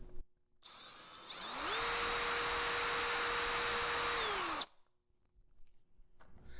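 A power drill fitted with a half-inch coupler and drill extension spins up, runs at a steady high-pitched whine for about three seconds, then winds down, loud and close in a quiet room.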